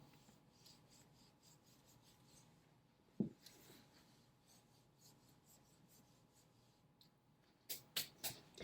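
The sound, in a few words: erasing a board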